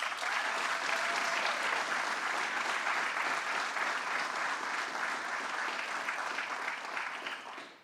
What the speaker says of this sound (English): let's give another great round of applause for the 56th governor of the great state of New York, Andrew Cuomo